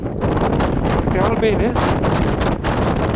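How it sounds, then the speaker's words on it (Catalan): Strong wind roaring across the Col du Galibier mountain pass in sub-zero cold, buffeting the microphone with a loud, constant rumble, while someone speaks briefly over it. "un vent de collons que fa"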